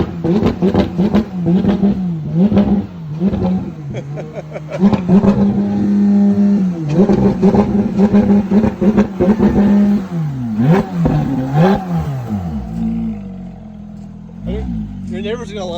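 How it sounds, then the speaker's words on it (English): A Porsche engine revved repeatedly by the owner, loud close blips rising and falling in pitch, one long climbing rev before settling to idle, with people talking over and between the revs. "Wanna rev it?"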